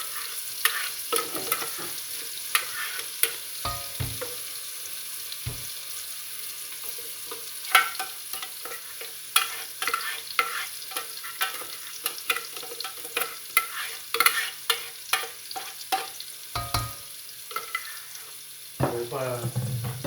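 A large onion frying in a pot, with a broadband sizzle and repeated scraping stirs through the clip and occasional clinks of the spoon against the pot.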